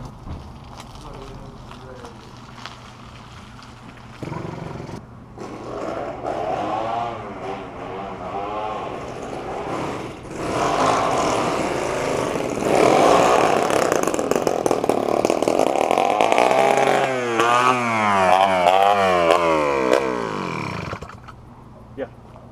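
A small 80cc two-stroke motorized bicycle engine running without its exhaust revs loud and raw, rising and falling in pitch as it accelerates, with a voice briefly audible near the start.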